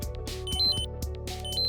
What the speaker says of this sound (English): When the alarm sounds or vibrates, the reader alarms for about 1 minute.